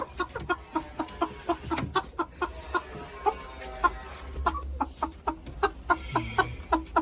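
Chickens cluck repeatedly in short, sharp bursts, a busy rhythmic stream of calls from several birds close by.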